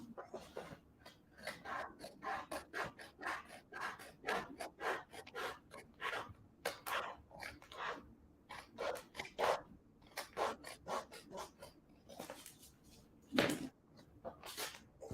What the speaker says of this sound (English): Now you grab the scissors and you start cutting it.